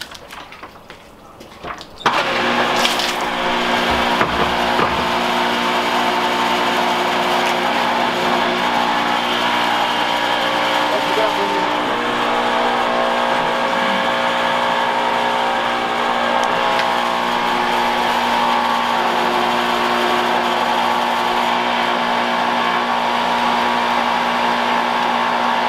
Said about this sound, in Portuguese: Então vamos ligar essa bomba do poço do artesiano.